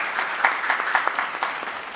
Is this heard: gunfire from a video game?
no